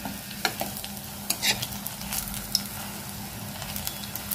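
Aloo paneer koftas frying in a pan until golden brown, a close, steady sizzle of hot oil with sharp pops and scraping stirs breaking through at intervals.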